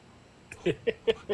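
A voice imitates a voiceless cough: four short, breathy puffs of air in quick succession, close and fairly soft.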